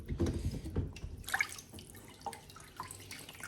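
Tap water runs and splashes steadily into a basin with dripping, loudest at the start and then thinning to a softer trickle, with no voices.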